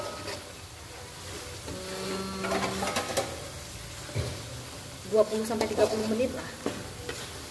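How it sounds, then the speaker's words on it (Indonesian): Spices for Padang gulai cincang sauté in a pan with a soft sizzle under repeated scraping and clinking of a stirring spoon, while someone briefly talks over the cooking. "Kita tumis terlebih dahulu ya."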